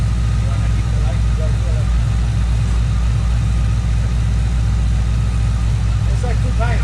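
An engine fitted with a small Whipple supercharger idles steadily throughout, a constant low rumble held at an even pitch with faint voices in the background.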